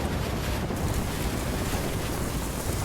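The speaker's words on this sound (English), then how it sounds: "These waves are not good." Storm surf at high tide during Hurricane Matthew, a steady loud roar of breaking waves mixed with heavy wind buffeting the microphone, continuous without distinct breaks, no voices.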